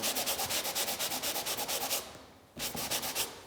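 Sanding by hand to roughen an adhesive layer on cardboard, close rapid back-and-forth rasping strokes in an even rhythm, with a short pause before the scraping resumes.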